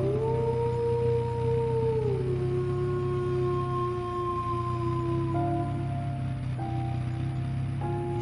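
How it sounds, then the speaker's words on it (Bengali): A jackal howls in the distance at night beside a road, drawn-out wavering cries that rise and fall one after another over a steady low background hum. "দূর থেকে শিয়ালের ডাক ভেসে আসছে"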